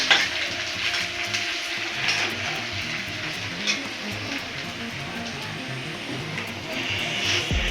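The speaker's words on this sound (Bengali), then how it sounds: "এখানে পেঁয়াজ ভাজাচ্ছে, পেঁয়াজটা ভাজা হোক, তারপরে মাংসটা দিয়ে দেবে" Onions fry in a pan before meat goes in for a home-cooked curry, giving off a steady, close sizzle and crackle with a few faint scrapes. No one speaks over it.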